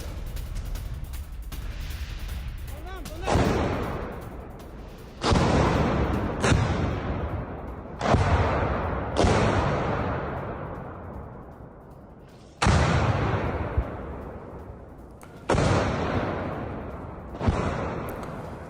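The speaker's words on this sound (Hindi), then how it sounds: "खार्किव में यूक्रेनी सेना पर आर्टिलरी अटैक" Artillery shelling in Kharkiv on news footage: a series of loud booming blasts, around seven or eight, each with a long rumbling decay, spaced a few seconds apart and heard without talk.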